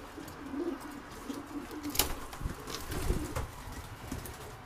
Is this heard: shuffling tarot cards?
no